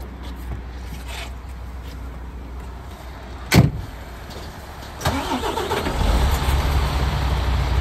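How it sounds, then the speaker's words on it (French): A heavy truck engine starts during a French truck driving exam: a sharp click, then the starter cranks, the engine catches and settles into a rising, steady idle, close and fairly loud. "On va passer à la mise en route du moteur et je vais aligner le porteur à la remorque."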